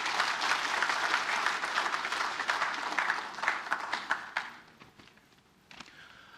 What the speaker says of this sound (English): Could we just give him a round of applause again